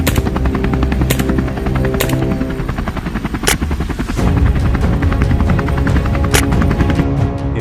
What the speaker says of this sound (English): Helicopter noise can disturb wildlife and affect non-target animals.